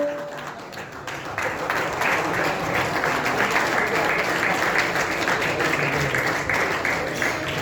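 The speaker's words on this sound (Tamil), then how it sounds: "ஒரு பெரிய பெரிய கைத்தட்டலோட ராகவ்." An audience bursts into loud, sustained applause as Raghav is welcomed on stage at a film success meet, the clapping swelling after a second and continuing steadily throughout.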